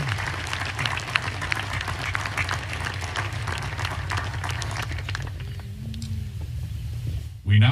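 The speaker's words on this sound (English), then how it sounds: "please join me in a round of applause for our retiring faculty members." A crowd at an Army War College graduation applauds warmly for several seconds for retiring faculty, the clapping fading out near the end as a low rumble lingers underneath.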